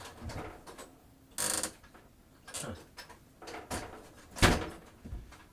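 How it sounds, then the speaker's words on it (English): A home door being opened: a series of clicks, a latch snap and bumping thuds in short bursts, close by in a quiet room. "I'm going to open my door here for a sec."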